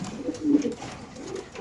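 Racing pigeons of a BRPFC club breed coo softly at close range, a low burbling murmur rising and fading over about a second and a half.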